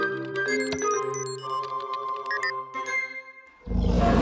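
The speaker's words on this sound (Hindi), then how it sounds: "अरे ये तो डायनासोर की आवाज है।" A cartoon dinosaur roar sound effect in a kids' animated garage show begins with jingly, tinkling musical tones, then a loud, rough roar bursts in at the end.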